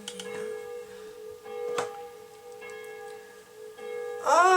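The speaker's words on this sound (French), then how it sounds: "Oh, les cloches." Church bells ringing at midday on a Sunday, sustained resonant tolls with long humming overtones that linger at moderate distance, with a brief vocal sound near the end.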